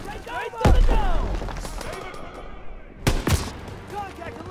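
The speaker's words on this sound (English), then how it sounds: "Gunfire! We must be near our guys." Two sharp gunshots crack a few seconds apart amid distant battle noise in the video game Call of Duty: WWII, with shouted voices in between.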